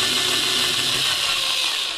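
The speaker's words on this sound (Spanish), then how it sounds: "Vamos realizando los agujeros poco a poco." A hand-held electric drill runs steadily while boring holes in a printed circuit board, making a continuous high-pitched whirring grind that stays loud and close for the whole stretch with no pauses.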